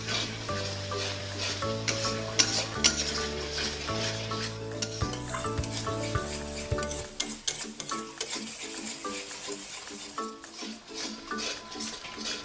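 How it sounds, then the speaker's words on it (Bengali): Chicken curry spices cook down in a pan after half a cup of hot water is added. A soft sizzle runs beneath scraping stirs of a spoon against the pan, partly buried under steady background music. "গরম জল দিয়ে আমি আরও 5 মিনিটের মতো কষিয়ে নেব।"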